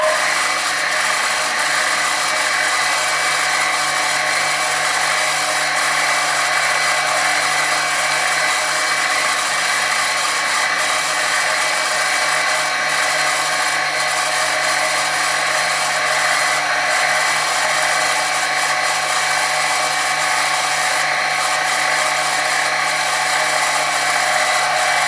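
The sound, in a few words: drill drilling holes in model airplane tail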